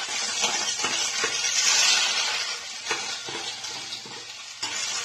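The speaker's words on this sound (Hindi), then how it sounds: "प्याज को हमें अच्छे से भून लेना है" Onions and green chillies sizzle steadily in a hot pan, a dense crackling hiss that swells and eases with occasional stirring clicks, close and continuous with no talking.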